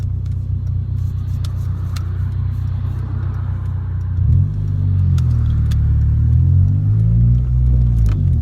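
A 233 bhp front-wheel-drive Honda Civic Type R drives along with a low, steady engine rumble that swells as the revs rise halfway through, heard from inside the car with faint rattles.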